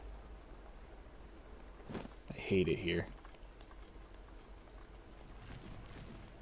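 Steady rain patters across a Zelda video game landscape, a soft, constant hiss that runs the whole time while a voice speaks briefly over it.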